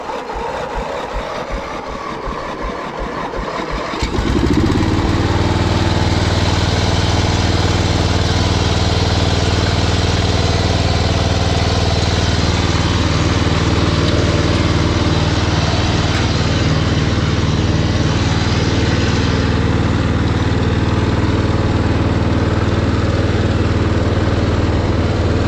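An old lawn tractor engine cranks briefly, then catches and settles into a loud, steady idle that carries on without a break, with no one speaking.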